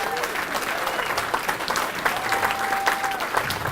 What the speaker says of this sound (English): So I'd like to give those girls a big round of applause